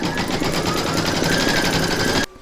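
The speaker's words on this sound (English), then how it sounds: "pop your hoop into your machine and stitch round number 1 to give you your placement outline" An embroidery machine stitches a placement outline for an in-the-hoop stacked Christmas tree, a fast steady mechanical rattle, close and continuous for about two seconds before stopping abruptly.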